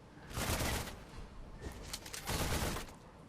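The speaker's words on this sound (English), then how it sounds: "This, for example, is a submachine gun." Beatrix firing her submachine gun in Mobile Legends: two dense bursts of rapid gunfire, fairly soft and slightly distant, separated by a short quieter gap with a few scattered shots, no talking.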